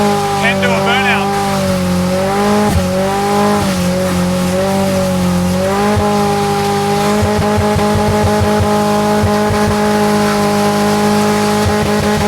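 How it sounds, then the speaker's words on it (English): A turbocharged Hilux sleeper does a burnout. The engine holds a loud, close, droning rev with tonal shifts as the revs rise and fall, and a rough rasp of spinning tyres runs through the second half. "Can do a burnout."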